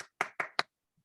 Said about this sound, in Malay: Tepukan untuk Kak Karen dulu.